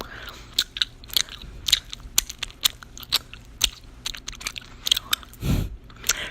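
Close, wet gum chewing in an ASMR recording, with rhythmic smacks and crunchy bites repeating steadily, one deeper thud near the end, and no talking.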